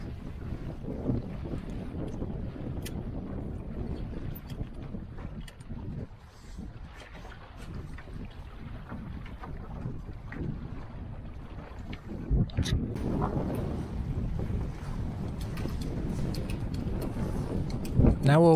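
GP14 sailing dinghies moving across open water at Milford Haven, Pembrokeshire, with steady wind rumbling against the microphone, broadband noise throughout and a louder gust late on.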